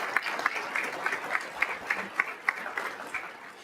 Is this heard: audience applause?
yes